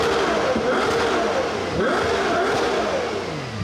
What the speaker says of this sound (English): Let's take a listen to a couple of 12-cylinder revs.